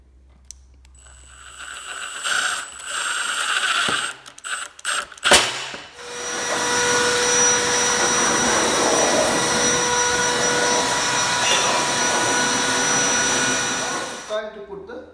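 A power driver runs screws into an aluminum slat gate: short bursts of whirring and clicks, then a long, loud, steady drive close to the listener that stops abruptly near the end.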